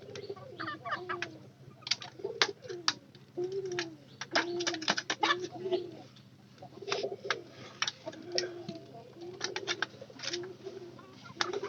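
Pigeons coo repeatedly at close range, with soft rolling calls overlapping in an irregular rhythm over a faint low hum.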